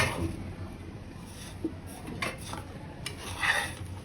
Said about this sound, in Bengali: এখন আমি প্যানটাকে একটু করে ধরে তারপর নাড়াচাড়া করতেছি আমার সুবিধার্থে